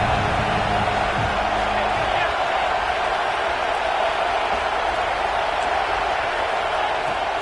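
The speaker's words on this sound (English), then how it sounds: "This crowd bringing the energy and noise early." A stadium crowd at a football game roars in a steady, dense wash of cheering and noise that fills the whole stretch, with a low rumble near the start.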